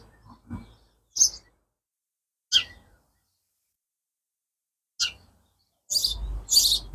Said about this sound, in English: it looks like the sparrows have decided to nest in the swift box